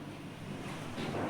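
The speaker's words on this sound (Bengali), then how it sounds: "এত জোরে বাতাস হচ্ছে" Strong night wind blowing outside a window, a steady rushing roar that swells slightly toward the end, heard alone.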